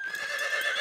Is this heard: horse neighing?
yes